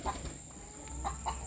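Chickens clucking in a coop, a few short, fairly faint clucks spread over a second and a half against a steady background hum.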